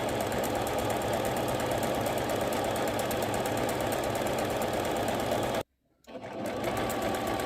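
A Singer sewing machine stitches lace trim in a steady, loud, fast mechanical chatter that cuts out briefly near the end, then resumes.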